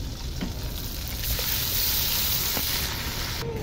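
Blended onion paste goes into a hot pan after the chicken is removed, giving a steady, moderately loud sizzle and frying hiss with faint stirring and no talk.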